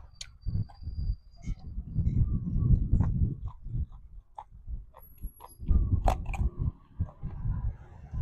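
Someone chewing a giant pig ear with tough cartilage, close and loud, in repeated bouts of crunchy, wet bites and grinding, with brief pauses between them.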